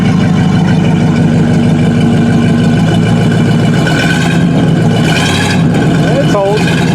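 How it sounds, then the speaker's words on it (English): A V10 K5 Chevy Blazer with a one-ton swap revs against the held brake, a loud, close, rumbling engine drone that swells slightly and then eases, with voices talking over it. "Hold the brake and give it a little gas."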